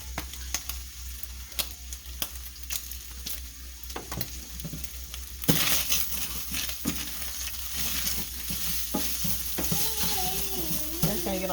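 Seasoned food sizzles in a hot pan while a utensil stirs and scrapes through it, the frying growing louder and steadier partway through.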